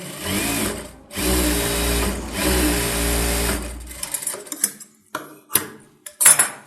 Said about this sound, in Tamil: டபுள் தையல் போட்டுக்கோங்க